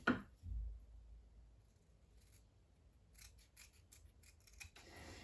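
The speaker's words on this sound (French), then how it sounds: "Ce triangle-là, on va venir le découper." Scissors snip a paper triangle for a scrapbook night-light, one sharp opening cut followed by a run of quiet, close trimming strokes that ends in a brisker rasp.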